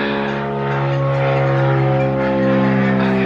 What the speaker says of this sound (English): I get so fed up with these airplanes.